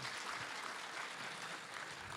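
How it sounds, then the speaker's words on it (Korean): Audience applause at a workshop panel discussion on junior college innovation support, a dense, even wash of clapping that stays steady and fairly faint throughout, with no voices. "박수 한번 부탁드립니다."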